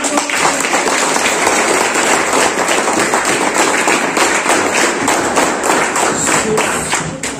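Students in a classroom applaud a student group during a school kombucha-making activity, giving dense, steady clapping that lasts several seconds and fades slightly at the end.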